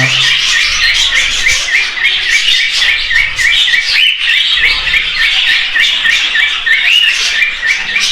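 A cockatiel chirps in rapid, repeated bright calls, loud and close, continuing without pause throughout.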